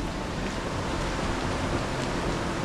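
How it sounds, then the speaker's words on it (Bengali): Waterfall in a Meghalaya jungle on a trek route, heard as a continuous, even roar of rushing water filling the whole scene, fairly close and steady with no voices. "এটা কিন্তু ঝর্ণার আওয়াজ।"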